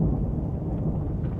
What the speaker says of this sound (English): I hear the sound of an abundance of rain.